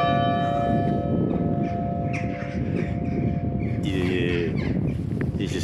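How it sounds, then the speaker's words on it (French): A church bell rings out the half hour at 1:30 in the afternoon, with a steady tonal hum and background noise underneath and faint clanging layered in, no talking. "ça sonne les 13h30, il me semble"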